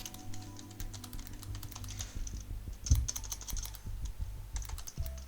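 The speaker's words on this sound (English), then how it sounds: "let's type." Typing on a computer keyboard, a quick irregular patter of close, soft key clicks with brief pauses and a slightly heavier stroke midway.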